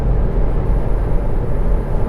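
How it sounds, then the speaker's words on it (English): Steady low rumble of wind and tyre roar inside a moving Kia e-Niro electric car, constant and fairly loud with no engine sound. "you tend to hear the wind and the tire noise a lot more."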